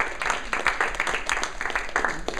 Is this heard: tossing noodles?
no